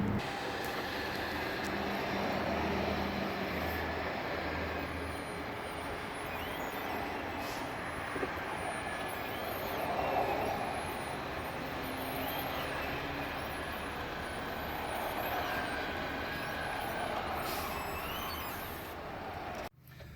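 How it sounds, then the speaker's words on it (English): Slide-out motors on a 2018 Thor Four Winds 30D RV run as a steady, continuous mechanical drone and hum for about twenty seconds, fairly quiet and unbroken, then cut off abruptly. "The motors will slow down and so forth."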